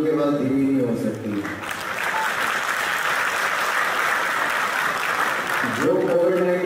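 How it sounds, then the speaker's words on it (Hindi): An audience claps in sustained, dense applause at a healthcare excellence awards ceremony, a broad wash of hand claps lasting several seconds, with a person speaking briefly at the start and end. "आपकी तालियों की आवाज धीमी नहीं हो सकती."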